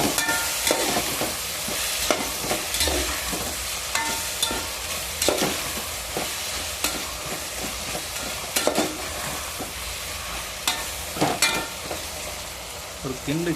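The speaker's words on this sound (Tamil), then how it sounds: "ஒரு கிண்டிட்டு அப்படியே வதங்கணும் கத்திரிக்காய்." Eggplant pieces being stirred and sautéed in a pan with a light sprinkle of salt, a steady sizzle broken by repeated scraping stirs of the spoon, close and continuous, with no talking.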